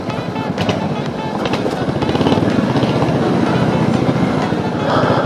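A Royal Enfield Hunter 350 motorcycle rides along village roads, its steady engine drone and road noise close and loud for the whole stretch, with some wind rush and no talking.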